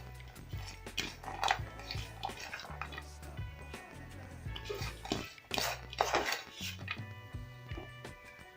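Spoon scraping and stirring through rice in a cooking pot as capsicum, coriander and shredded carrots are mixed in, a steady run of close clinks and scrapes with a low hum underneath.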